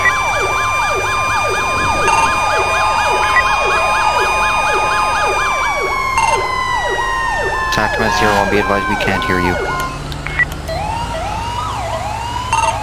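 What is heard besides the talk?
police sirens in a roleplay video game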